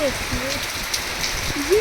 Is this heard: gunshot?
no